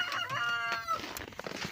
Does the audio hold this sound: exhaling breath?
no